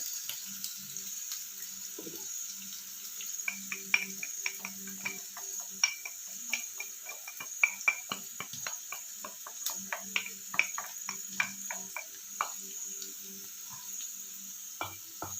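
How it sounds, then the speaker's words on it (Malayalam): Chili and turmeric powder stirred into hot oil gives a steady, close sizzling hiss throughout, broken by light scraping and clicking from the stirring spoon, with no talking. "എണ്ണയിലോട്ടേക്ക് ഈ പൊടി ചെറുതായിട്ടൊന്ന് ഇളക്കി കൊടുക്കാം"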